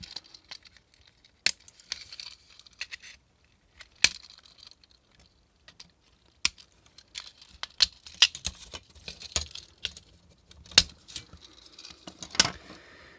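Splayed plastic pins being cut off an emergency open sign: a series of sharp, close snips and clicks scattered irregularly, with faint handling rustles between them and no talk.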